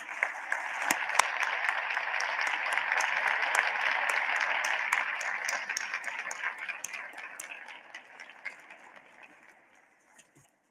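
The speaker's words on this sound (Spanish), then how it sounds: "Les pido un aplauso para él." An audience applauds for Jorge Mario Pardo Rebolledo at a gathering of an association of judges and magistrates, a dense round of clapping that builds, holds, then thins to scattered claps before fading out.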